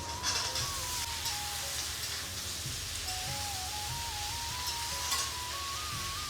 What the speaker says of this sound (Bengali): কুমড়োটা ভাজতে ভাজতে এটা ভাজা হয়ে গেছে।